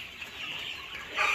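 Sonali super hybrid A+ chickens cluck softly in a poultry farm flock of around 7000 birds, a faint brief murmur of clucks ending in a slightly louder call.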